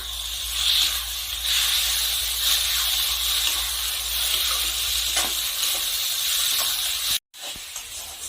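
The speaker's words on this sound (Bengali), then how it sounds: "এখন আমি কষা মশলার সাথে ভালো করে নেড়ে চেড়ে মিশিয়ে নেব।" Green chilli paste and chopped coriander are stirred into masala frying in a pan, giving a loud, continuous hiss and sizzle up close with soft stirring scrapes underneath.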